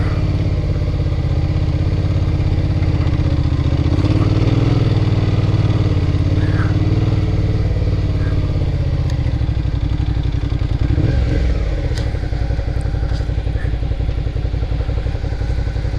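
Suzuki V-Strom 650 adventure motorcycle labouring through deep silt on a Utah backcountry trail, a steady mid-pitched engine drone that swells and drops with throttle, with a rattling, thumping patch near the eleven-second mark.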